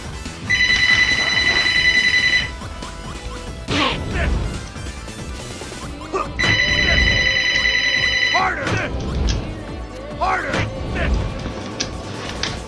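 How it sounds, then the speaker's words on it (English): In the Baten Kaitos game, a telephone bell rings in two bursts amid crashing and whacking battle effects, with a voice talking over the action between rings. "Of course the phone would go off at this time."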